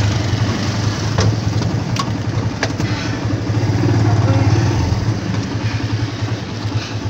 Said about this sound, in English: We're riding like a tricycle thing.